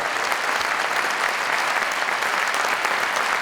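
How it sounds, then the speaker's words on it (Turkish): Audience applause at the opening ceremony of the 33rd Ankara Film Festival, a dense, steady clapping from a large crowd that stays loud and even throughout, with no talk over it. "Büyük alkışlarla özgürlük mücadelesi veren kadınlara."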